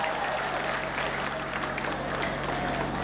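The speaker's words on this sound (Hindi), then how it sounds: "ताली तो पूरा सदन इस बात पे बजाएगा" Audience applause at a Hindi comedy poetry gathering (hasya kavi sammelan), a steady dense wash of clapping with crowd noise throughout, under a low constant hum.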